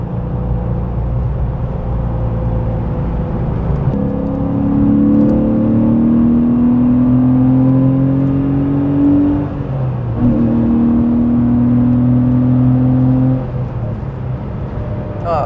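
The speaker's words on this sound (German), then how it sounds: "der Klassiker Porsche 993. Tolles Auto, macht einen riesen Sound" A 1994 Porsche 993 Carrera air-cooled engine revs upward in two long climbing pulls with a gear change between, loud and droning from inside the cabin with three people aboard.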